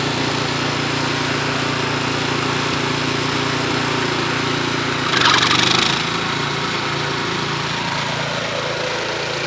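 A farm machine crushes and cuts tall napier grass, its engine running in a steady loud drone with a brief harsher crackling surge of stalks being chopped midway.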